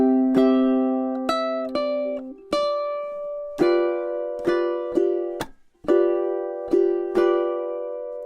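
Solo ukulele playing a short phrase from the pre-chorus of a piece: about a dozen clear, ringing plucked notes and chords, spaced unevenly and close-miked, with no talking.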